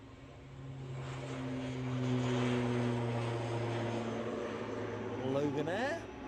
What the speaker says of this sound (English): ATR rolling.